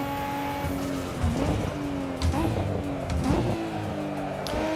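A Nissan R34 race car in Assetto Corsa on the Nordschleife roars close and loud, its engine note rising and dipping through revs and shifts, with brief tyre squeals among other cars.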